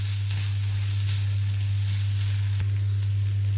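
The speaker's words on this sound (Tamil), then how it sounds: "நல்லா வதக்கி விட்டுறலாம்." Two medium onions, finely chopped, sizzle steadily as they sauté in a hot pan for onion paratha, a continuous close frying hiss with no voices.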